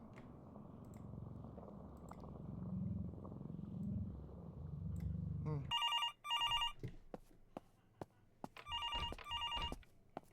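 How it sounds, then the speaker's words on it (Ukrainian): An electronic telephone rings in the horror video game Infliction, two clear bursts of trilling rings over a low rumbling hum, with sharp clicks between them. "Тут тут телефон дзвонить."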